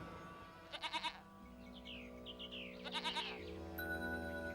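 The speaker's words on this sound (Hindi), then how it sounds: "गायें और बकरियों ने तो उनकी परिक्रमा करना शुरू कर दिया था" Goats and cows circling a person in a forest pasture, with a few short goat bleats coming through faintly in two clusters over steady music and ringing, bell-like tones.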